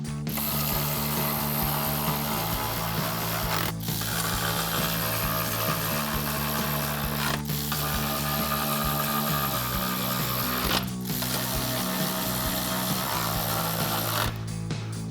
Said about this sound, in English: Switch back to our ratchet and 10mm socket and go ahead and tighten all 4 of those down.